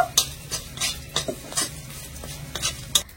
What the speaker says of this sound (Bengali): কালারের জন্য সামান্য একটু হলুদ গুঁড়োটা দিয়েও খুব ভালো করে ভেজে নেব।